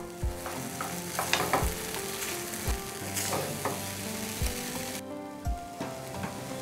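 Pasta sauce stirred with fresh cream in a hot pan for curried beans pasta, a soft sizzle under repeated spoon scrapes and clinks against the pan, close and unhurried.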